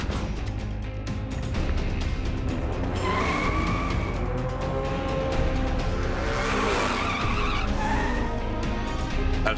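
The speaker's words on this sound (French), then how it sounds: "Observez la moto la plus redoutable de Gotham City en action dans cet extrait de Prenez garde à Batman" The Batpod motorcycle races through Gotham City in an animated Batman chase scene. Its engine roars continuously under loud tire squeals and skids, with dramatic music behind it.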